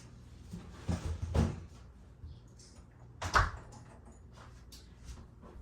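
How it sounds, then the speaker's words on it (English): A room door is closed indoors, giving two distinct knocks or thuds about two seconds apart against a quiet background, with no talking. "I need to close my door."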